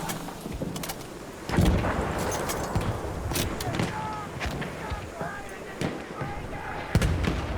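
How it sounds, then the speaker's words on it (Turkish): Machine gun and rifle fire in Battlefield 1 on a Suez battlefield, irregular sharp cracks and short bursts near and far over rumbling combat noise, while someone talks throughout. "Makinalı tüfek."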